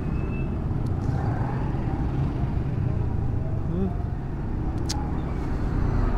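Road traffic rolls past on the Maharlika Highway, a continuous loud rumble of cars and trucks close by with a couple of faint high beeps or horn taps.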